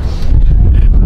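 Wind buffets the microphone on the upper front deck of a boat, a loud, steady low rumble filling the short moment with a few gusty surges.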